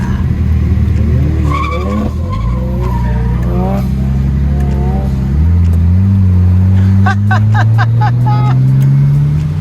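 A loud Nissan engine revs and climbs in pitch, dropping briefly and then rising again, with tire noise and a rough, throbbing exhaust up close.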